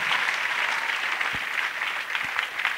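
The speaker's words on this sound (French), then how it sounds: "Acclamation. Clapping." Dense, steady clapping and acclamation from a church congregation run throughout at an even level, with a couple of low thumps.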